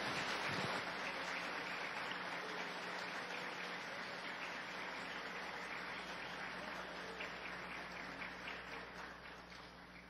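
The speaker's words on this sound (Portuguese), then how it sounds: "O senhor vai receber os nossos aplausos com muito carinho nessa hora" Audience applause at a seminary graduation ceremony in a church, a soft, steady wash of clapping that continues throughout and fades slightly toward the end.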